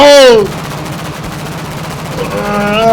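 Loud bursts of automatic gunfire from the video game Landfall, a dense rattling stream with a tonal whine at the start and end, heard alongside voices.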